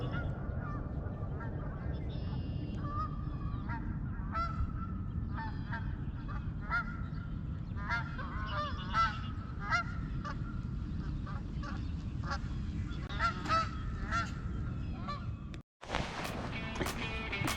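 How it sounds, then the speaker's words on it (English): A flock of geese honks continuously at a winter fishing spot, many overlapping calls at mid distance over a steady wind-like rumble, with a brief cut near the end. "Look at these birds."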